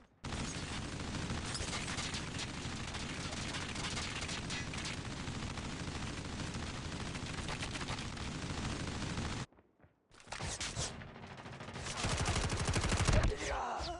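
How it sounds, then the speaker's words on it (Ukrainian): Heavy explosive weapon fire and blasts in the mobile shooter Call of Duty Mobile, a dense sustained barrage that cuts out briefly near the end before more loud bursts resume. "я беру свою супер-пупер базуку і навалюю"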